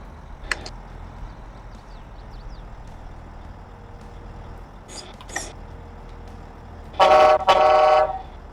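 Two loud blasts of a train-style horn fitted to a truck in Farming Simulator 22, the second starting right after the first, preceded by faint scattered mechanical clicks and engine hum.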